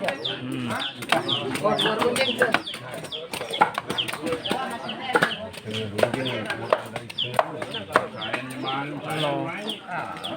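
Chickens cluck among a busy, crowded gathering at a Sasak traditional circumcision celebration, short bird calls scattered through steady chatter and talk from many people nearby.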